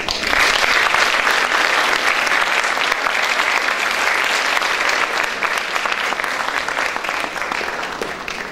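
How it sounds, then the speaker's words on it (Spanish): Sustained audience applause after a dance show by a Teotitlán dance group in a university hall, steady and dense for the full length, fading slightly at the end. "el profesor Bulmaro Bazán Acevedo, para quien también pedimos un fuerte aplauso"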